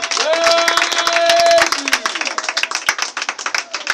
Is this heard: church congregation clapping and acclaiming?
yes